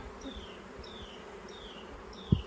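Honeybees buzz softly nearby at a hive in a continuous low hum, with a faint high whine drifting past repeatedly and a brief thump near the end.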